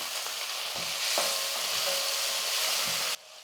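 Onions and chopped tomato sautéing in a pan, a dense close sizzle with a couple of soft spoon knocks, steady and fairly loud, then an abrupt drop to quiet at the end.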